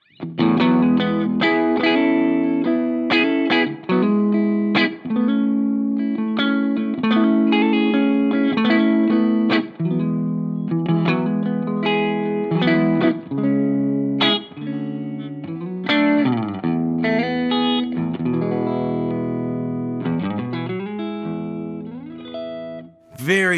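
Electric guitar through an Origin Effects Revival Trem pedal plays ringing chords and melodic lines with a pulsing tremolo wobble, sustained notes swelling and fading over a steady amp tone.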